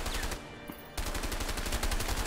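Rapid gunfire in the co-op prison-escape game A Way Out, a dense stream of shots rattling steadily, briefly thinning before resuming at full loudness to the end.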